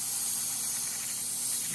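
An airbrush sprays paint lightly onto a stormy-sky lightning painting, producing a continuous, even airy hiss with no breaks, close and alone with no voices.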